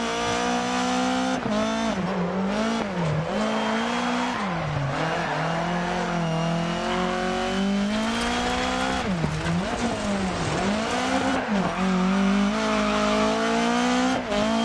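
A rally car in Dirt Rally 2 driving loud and steady, its engine droning and rising and falling in pitch through repeated slides, with the revs bogging down as the car goes sideways.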